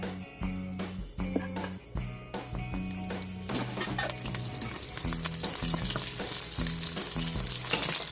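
Olive oil and butter heating in a frying pan, a loud crackling sizzle that grows denser and brighter over time, with a rhythmic tonal pattern underneath.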